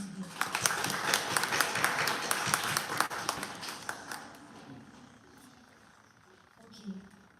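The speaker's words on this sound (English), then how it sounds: "Shall we all give a big round of applause for them once again?" An audience at a college women's day event applauds fourth semester students, a dense burst of clapping that fades after about four seconds into quieter room noise and scattered sounds.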